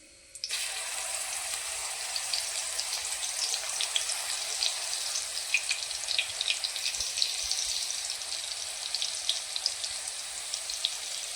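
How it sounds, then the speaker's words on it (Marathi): Finely chopped green chillies fry in hot oil with cumin and mustard seeds, a bright, dense crackling sizzle that starts abruptly and stays loud and steady, dotted with small pops. "मिरची चांगली फ्राय झालेली आहे"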